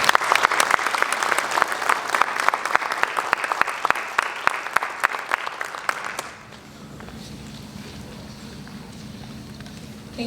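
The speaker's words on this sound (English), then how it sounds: "Can we give him another round of applause?" Dense audience applause at an Occupational Therapy Assistant graduation ceremony for the class of 2026, loud and sustained for about six seconds before cutting to a quieter room hum.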